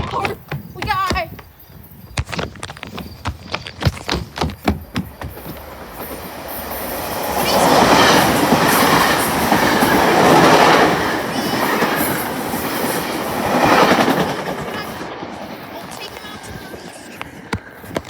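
A train passing near an airport station while railfans watch, building from sharp rhythmic clatter into a loud, sustained rumble with wheel squeal and swelling bursts, as a person talks over the start.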